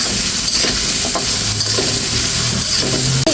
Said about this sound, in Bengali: তাই কিন্তু আলু আর তরমুজের খোসা একসাথে আমি ভেজে নিচ্ছি